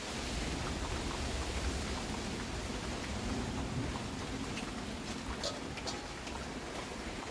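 Steady heavy rain pouring down and pattering on surfaces, continuous throughout, with no voices.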